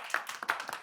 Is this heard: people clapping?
yes